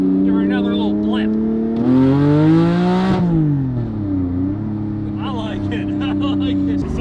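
A Porsche Cayman 718 GT4 engine, car bought totaled, revs close by from idle, climbing sharply to a high rising howl near the middle and falling back to a steady idle burble, with no talk.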